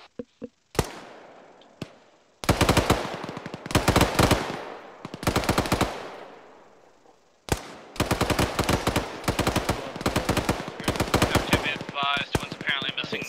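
Gunfire in a military video game, with a few isolated shots followed by sustained bursts of loud automatic fire, some close and some echoing, and radio-style voices talking at moments.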